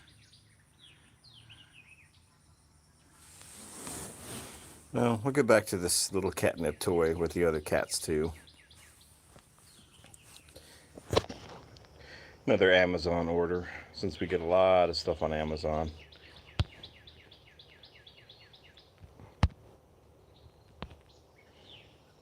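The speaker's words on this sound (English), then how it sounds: "Right now, just hanging out with Rosemary, listening to the birds on this Whisker Wednesday." Small birds chirp and tweet outside in short, sparse calls, faint and intermittent, mostly under someone talking about cat toys and deliveries, with a brief hiss of rustling near the start.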